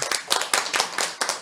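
A lecture audience breaks into quick, dense clapping, many hands together for a short burst, close and lively, with no talking over it.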